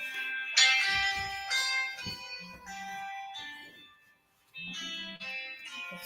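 A phone rings during a youth forum talk on Africa, playing a loud, tonal, bell-like ringtone melody in repeated bursts with a short pause before it starts again. No speech is heard.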